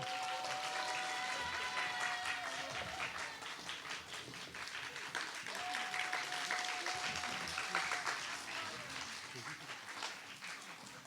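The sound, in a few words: audience applause for the performers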